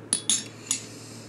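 A metal spoon clinks lightly against a container three times while a tablespoon of liquid is added to a green activated EM solution, short faint taps with quiet gaps between.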